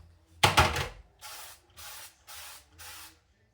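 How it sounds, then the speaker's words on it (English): One long spray burst followed by four shorter, evenly spaced hissing sprays of olive oil from an aerosol can onto a sheet pan, close and fairly quiet otherwise. "So I'm going to spray with some olive oil."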